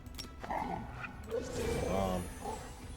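Dogs rushing in to attack in a fantasy role-playing game, with short yips, barks and whimpers mixed among overlapping voices talking.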